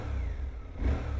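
Engine of a 2025 Suzuki V-Strom 800RE parallel-twin motorcycle, heard close up in a short burst. A low, throbbing rumble swells into a quick rev near the end.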